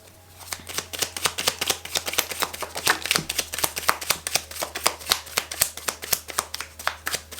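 Tarot cards are shuffled by hand in quick, repeated riffling bursts, a close, crisp run of papery flicks and slaps at an irregular rhythm, with no speech.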